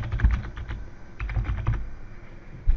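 Rapid typing on a computer keyboard while naming a Google Sheets file, with a dense run of close keystrokes that carries on steadily through the whole stretch.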